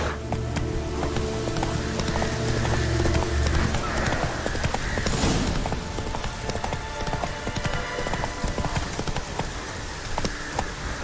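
Roach the horse galloping in The Witcher 3, rapid rhythmic hoofbeats pounding steadily and close throughout over a game soundscape, with a brief rush of wind or movement midway.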